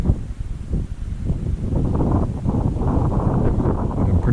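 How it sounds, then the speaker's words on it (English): Wind gusts buffet the microphone outdoors on a rooftop, a steady low rumble that swells and eases, with no voices. "the wind's up a bit"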